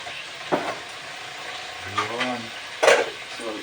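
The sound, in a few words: chicken sizzling while browning in a pan for tinolang manok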